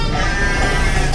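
A sheep bleats loudly and close by in a farm building, one sustained wavering call filling the moment.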